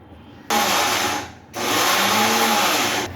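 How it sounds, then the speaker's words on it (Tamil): A mixer grinder whirs loudly while grinding chickpea vada batter. It runs in two steady bursts with a brief pause between them. "இப்போ நான் மிக்சியில் அரைச்சிட்டு வந்துடுறேன்"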